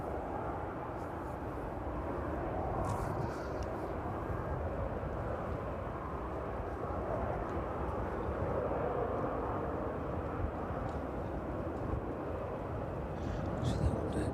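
Aircraft taxiing at East Midlands Airport produce a steady, continuous broadband jet-engine rumble that holds at an even level throughout, with faint occasional higher sounds above it.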